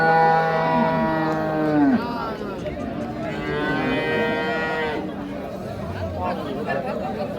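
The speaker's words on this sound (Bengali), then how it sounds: "এই যে গাভীটা" A Holstein Friesian cow lets out a long, loud moo at the Ambari haat cattle market, followed by a second lowing call, with crowd chatter throughout.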